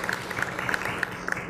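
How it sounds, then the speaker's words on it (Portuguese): An audience at a talk on knowledge management and open innovation gives a steady round of applause, a dense patter of many hands heard from within the room. "Vamos recebê-la também com uma salva de palmas"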